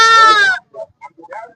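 A Kodi goat kid at the Perundurai goat market lets out one loud, close bleat, followed by a few brief, quieter animal or voice sounds in a busy market setting.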